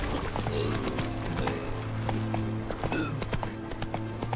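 Roach, the horse in The Witcher 3, galloping with steady rhythmic hoof clip-clops over a continuous droning game music and ambience bed, the hoofbeats fairly close and even throughout.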